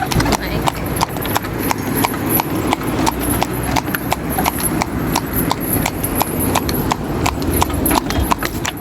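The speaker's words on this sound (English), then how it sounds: "we're at the market on the horse cart here in Guyana" Hooves of a cart horse clip-clop steadily and briskly on a street in Guyana, near and evenly paced throughout, with a faint neigh and people talking over the street bustle.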